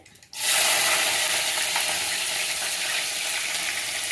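Onion with cumin and mustard seeds dropped into hot oil for aratikaya kura, an abrupt loud hiss that becomes a steady, bright, crackling sizzle and continues on its own.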